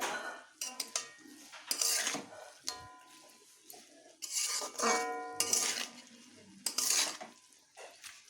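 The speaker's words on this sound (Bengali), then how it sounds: "ভেজে রাখা আমার শিম ও আলুগুলোকে এবার সবজির সঙ্গে এই লাউ শাকগুলোকে এইভাবে মিশিয়ে নিচ্ছি" A utensil stirs bottle gourd greens with fried beans and potatoes in a metal pan, giving intermittent scraping and clinking strokes, close and fairly quiet, with no talk.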